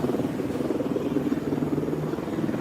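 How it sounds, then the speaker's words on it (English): A helicopter hovers overhead above a Los Angeles street, its rotor making a steady, throbbing rumble at moderate distance throughout. "There's a helicopter hovering."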